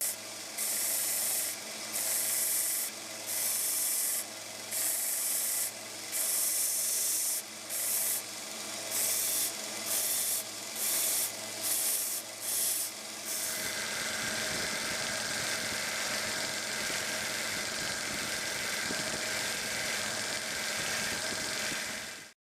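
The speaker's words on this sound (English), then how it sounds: "I started with 120 grit and finished up with my conditioning belts." Metal ferrules from a vintage drawknife being sanded on a belt sander with 120 grit and then conditioning belts: loud abrasive grinding in short repeated bursts, then one long continuous pass.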